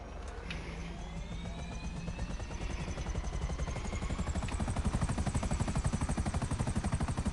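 Buzzard helicopter in the GTA video game flying, a steady loud rotor chop with engine whine that rises slightly and holds throughout, no talk over it.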